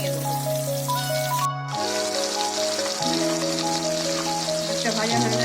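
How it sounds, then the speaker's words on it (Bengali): Fish frying in oil in a home kitchen, a soft steady sizzle with faint crackles, partly masked by background music-like tones throughout. "মাছটা ভালোভাবে ভাজা হবে, তারপর আমি এটা উঠে দেবো।"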